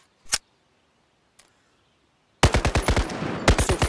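A G3A3 rifle in the VR game Bonelab empties a magazine: two isolated sharp shots, then a loud, rapid automatic burst of evenly spaced cracks that briefly pauses and resumes, with no talking.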